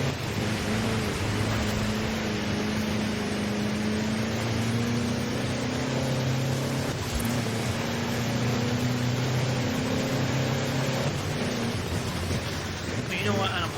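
A truck engine in Forza Horizon 4, a steady droning rumble with a rising and falling engine tone held throughout under continuous broadband road noise, with a player talking over it.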